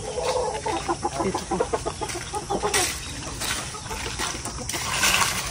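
Many chickens at a poultry seller cluck and squawk up close in a dense, continuous chatter, with a brief voice speaking over the birds.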